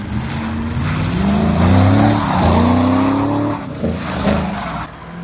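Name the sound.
2021 Ford Mustang EcoBoost driving hard, tires squealing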